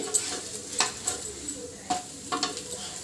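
A Bombay rava dosa cooks on a hot griddle, giving a steady low sizzle broken by light scraping clicks from a spatula, close and fairly quiet.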